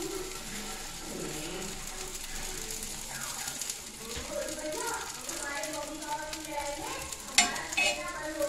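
Potato tikki frying in ghee on a griddle over medium gas, a constant soft sizzle beneath a voice speaking, with occasional scraping and a sharper clink near the end.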